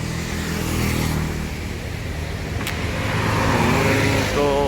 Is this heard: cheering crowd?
no